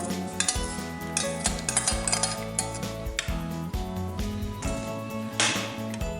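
A spoon stirring a fish dish with tomato in a metal pot, repeated clinks and scrapes against the pot sides in an uneven rhythm, close and clear, with soft bubbling underneath and no voices.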